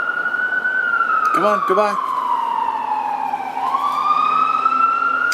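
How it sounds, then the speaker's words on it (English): Fire engine siren wailing steadily nearby close to a fire station, its tone sliding slowly downward and then rising again as it passes. A voice speaks briefly over it, and a short horn-like blast cuts in partway through. "Emergency vehicle."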